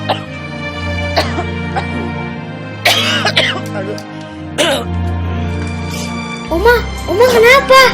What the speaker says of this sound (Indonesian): Oma cuma batuk sedikit